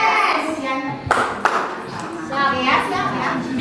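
A class of children claps a rhythmic chant, with sharp hand claps between chanted voices in a classroom.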